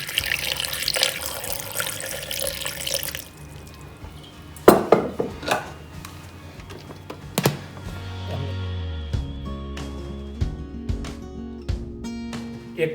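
Water runs from a tap into a vessel for a homemade fruity cocktail, a steady splashing stream that stops and then gives way to clinks of utensils and dishes.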